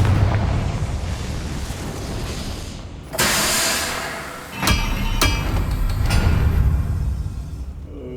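Confringo blasting spell in Hogwarts Legacy, two sharp bursts near three and four-and-a-half seconds with a roaring crackle afterwards, plus quick cracks around five seconds, loud and close over low rumbling game ambience.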